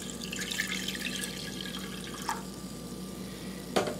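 Water poured from a cup into a pot of washed barley while making baby food, a soft steady trickle and splash near the mic, with a few brief clinks and taps.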